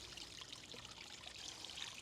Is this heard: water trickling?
yes